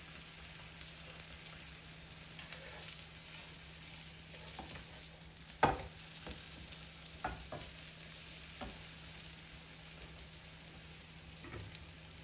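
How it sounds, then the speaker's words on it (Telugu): Crispy potato snacks fry in oil with a faint, steady hiss, broken by a few soft clicks and taps as pieces are turned over. "ఇలా తిప్పుకుంటూ రెండు వైపులా కూడా ఎర్రగా వేయించుకోవాలి."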